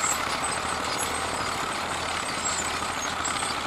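A vintage Fiat 55C 70R crawler tractor engine idles at a ploughing festival, giving a steady, even rumble at moderate level with no talk over it.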